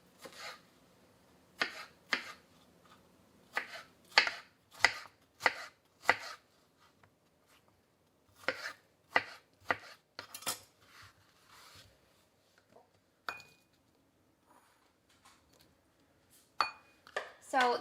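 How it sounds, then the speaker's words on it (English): A knife chops fresh strawberries on a cutting board in quick bursts of crisp, close taps separated by short pauses, with a few light clinks of utensils near the end. "I'm going to get our strawberries chopped up"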